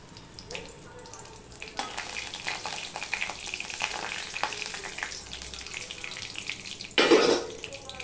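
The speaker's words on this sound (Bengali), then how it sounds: "এখানে আমি দেখো দুটো এলাচ আর দারচিনি নিয়ে নিয়েছি, সেগুলো আমি দিয়ে দিলাম।" Cardamom pods, cinnamon and a bay leaf dropped into hot oil for a vegetarian green papaya dish, a steady close sizzle with stirring scrapes and a sharp louder hiss surge near the end.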